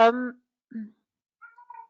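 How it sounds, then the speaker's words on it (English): A cat in heat yowls loudly and close, one long harmonic wail followed by a shorter cry and faint thin meows further off. "my cats are in heat and they're really screaming"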